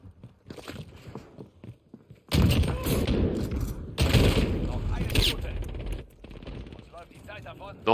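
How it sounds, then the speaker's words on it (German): Gunfire from a Call of Duty Modern Warfare multiplayer match: loud bursts of rapid automatic shots fill the middle of the clip, quieter game sounds before and after, with a voice talking over parts. "Egal, die Schüsse waren irrelevant."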